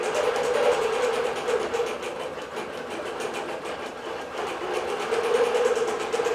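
A Joyquilts digital quilting machine stitches steadily at close range, a continuous rapid mechanical chatter with a faint tonal whine that eases slightly mid-way and swells again near the end.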